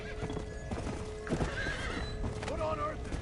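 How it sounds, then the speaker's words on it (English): A fiery undead horse in the Undead Nightmare video game gallops with rapid hoofbeats and lets out a shrill whinny, steady and close amid game sound and talking. "That ain't just a horse."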